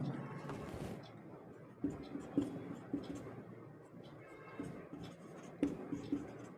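Chalk taps and scratches on a classroom board, a series of sharp, separate knocks spaced irregularly, heard faintly under a teacher's quiet voice during a class 12 maths lesson.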